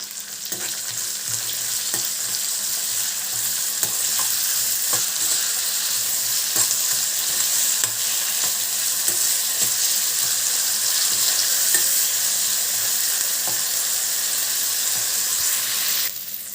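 Dried fish sautéed with salt in a pan for karuvattu thokku, a steady close sizzle and frying hiss running throughout, with faint stirring clicks and scrapes of a spoon now and then.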